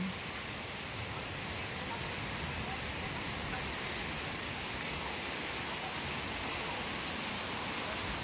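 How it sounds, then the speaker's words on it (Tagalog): Heavy rain pours steadily on a mountainside in the Philippine province, a dense, even hiss with no letup or gaps, moderately loud and heard alone. "Doon sa bundok, talagang yanong lakas pa ng ulan."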